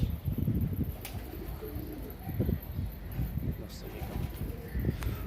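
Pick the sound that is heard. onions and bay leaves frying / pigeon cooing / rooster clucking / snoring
pigeon cooing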